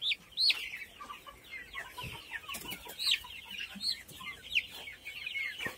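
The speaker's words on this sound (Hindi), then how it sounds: "ये प्योर देसी चूज़ा है" Desi chicks peep and cluck in short, repeated high calls, close by and fairly loud, with light scuffling and a few soft background chirps, with no talk.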